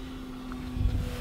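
A Tower Hobbies DHC-2 Beaver 1.5m RC floatplane runs at full throttle, its engine holding a steady high drone with wind noise buffeting the microphone and a slight swell near the end.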